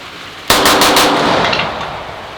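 Rock Island Armory 1911 pistol fired in a rapid string of four close, loud, cracking shots with a ringing tail fading after.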